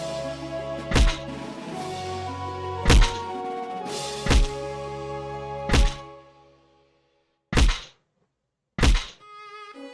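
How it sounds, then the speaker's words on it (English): Sacrifice sound effect from a Unity metroidvania game in the style of Hollow Knight: a series of loud, heavy thunking whacks at irregular intervals over a sustained tonal musical bed, which then drops to near silence before two final sharp hits and a faint tail. "The sound that you get when you sacrifice the guy"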